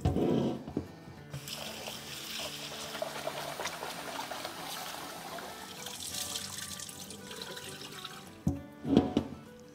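Water splashes and sloshes as soaked lentils and wheat are rinsed in a bowl, a continuous close wet churning with a few louder splashes near the end.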